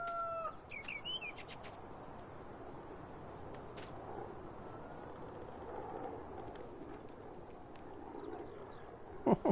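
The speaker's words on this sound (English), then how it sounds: "And there's a rooster." A rooster and chickens in the Farming Simulator 19 video game, faint scattered clucks and chirps over a low ambient hum, with a sharper crow-like call near the end.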